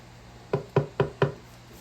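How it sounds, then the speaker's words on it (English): Four firm knocks on a house door in quick, even succession, close and loud, followed by quiet. "I'm just going to hop the fence and go ahead and knock on his door"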